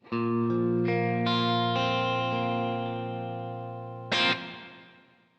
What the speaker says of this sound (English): I'm going to send a portion of that guitar track to this reverb